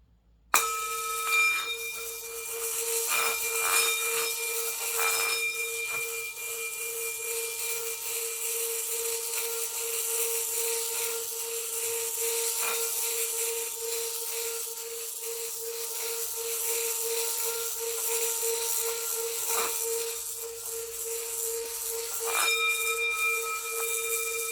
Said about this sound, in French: la vibration qu'émet le bol va faire crépiter les pierres